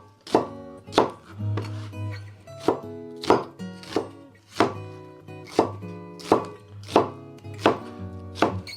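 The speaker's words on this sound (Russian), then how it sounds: "Лук режем такими квадратиками." An onion being diced into squares with a knife on a board, about a dozen crisp, evenly spaced chops cutting through the flesh, close and clear with no voices.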